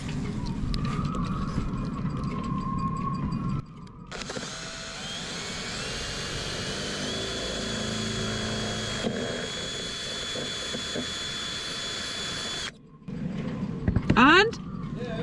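Drilling through a boat hull during a restoration, a steady high-pitched whine running for several seconds, then stopping abruptly; brief muffled talk and clatter come before and after.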